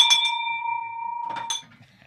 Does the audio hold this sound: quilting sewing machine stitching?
no